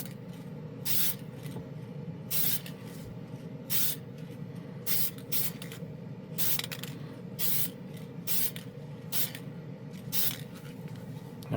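Spray can of Testors Extreme Lacquer paint misting in short repeated hissing bursts at a workbench, roughly a dozen quick sprays spaced irregularly over a low steady background hum.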